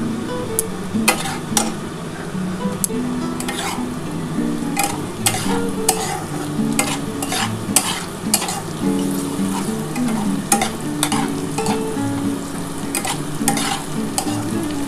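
Katla fish fries in oil with a loud, continuous sizzle close by, broken by repeated clacks and scrapes of a spatula turning the pieces in the pan.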